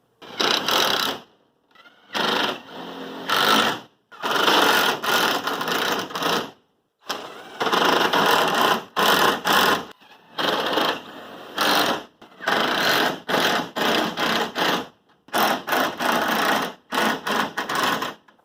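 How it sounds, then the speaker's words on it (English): Power driver sending screws into the wooden supports of a 24-inch-tall backyard rabbit tractor, in repeated loud whirring bursts separated by short pauses, close by with no talk. "So I just put in 3 screws in each row for the supports."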